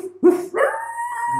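A close, loud wolf-like howl opening with a short yelp and then a rising, sustained wavering tone, alone without talk.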